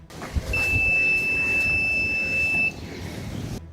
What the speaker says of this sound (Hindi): अचानक अलार्म बजने लगा।